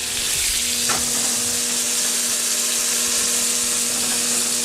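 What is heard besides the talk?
pork tenderloin searing in a pan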